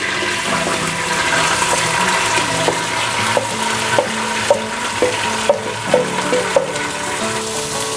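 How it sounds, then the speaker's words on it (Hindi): Three small medium-sized onions fry in a pot with cloves and black pepper for mutton biryani, a loud steady sizzle with occasional stirring clinks against the pot, and no voices. "प्याज को ब्राउन होने तक हम फ्राई करेंगे।"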